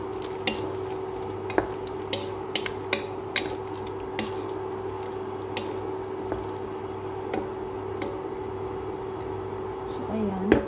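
Shrimp sauce boiling in a pan as tomato paste is stirred in, a steady bubbling simmer with scattered spoon clicks and scrapes and a brief clatter near the end.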